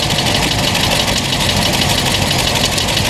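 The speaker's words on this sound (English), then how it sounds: "This is a Wisconsin engine, manufactured in 1940." A 1940 Wisconsin engine on a WWII-era welding unit runs steadily at a vintage engine rally, giving a loud, continuous idling chatter with a slight knock that holds unbroken throughout.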